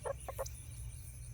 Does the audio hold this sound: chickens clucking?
yes